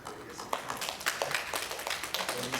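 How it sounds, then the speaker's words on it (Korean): Applause at a Korean church Sunday service as visiting members are welcomed, a scattered patter of hand claps over room tone, moderately faint and without speech. "박수 부탁드리겠습니다"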